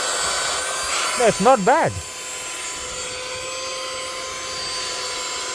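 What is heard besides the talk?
Temu rechargeable car vacuum cleaner running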